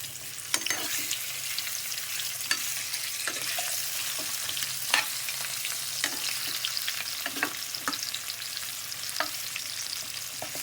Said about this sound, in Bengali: আমি আলুগুলো একটু হালকা করে ভেজে নিচ্ছি।